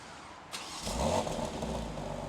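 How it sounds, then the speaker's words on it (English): A quiet click is followed by a 2024 BMW X3 M Competition engine turning over by remote start and settling into a low, steady idle a short distance away. "that quad-tip dual exhaust, which we can start up"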